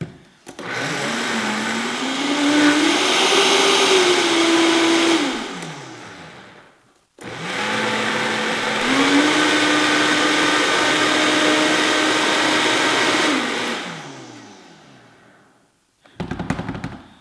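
A kitchen blender spins its blade through a raw vegan protein mix in two long loud bursts, each rising and settling into a steady whir, with a short pause between and a brief clatter at the end.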